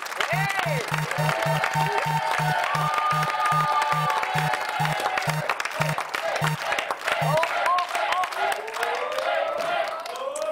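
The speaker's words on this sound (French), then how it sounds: "On peut l'applaudir, tout le monde." Studio audience applause on a French-language television game show, clapping under a rhythmic electronic ticking from the spinning arrow, with a host's voice and sung or musical tones over it.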